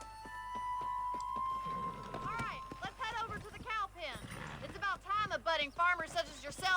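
Horse hooves clip-clop in Red Dead Redemption, a loose rhythmic patter that picks up pace in the second half, mixed with game music and voices talking over it.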